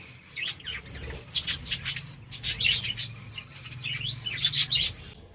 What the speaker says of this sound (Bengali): দেখো পাখি অনেক রকম এখানে পাখি আছে